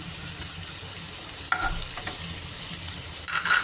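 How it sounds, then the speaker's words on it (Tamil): Onions sauté in a hot pan with a steady, close sizzle, while a spatula scrapes and stirs through them in a few brief strokes. "நல்லா வெங்காயம் வதங்கினோடனே வெங்காயம் நல்லா வதங்கணும்."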